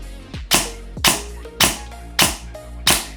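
SSR9 DSG airsoft rifle fired through a chronograph: five sharp, close snapping shots at a steady pace about half a second apart, each with a brief mechanical rattle, no talk.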